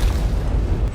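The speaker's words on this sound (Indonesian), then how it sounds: "Seketika saja ledakan kekuatan pun berhasil Yang Kai ciptakan." A deep rumbling blast of power in an animated Chinese martial arts fantasy, a loud sustained low-end boom with rolling bass that fills the whole second.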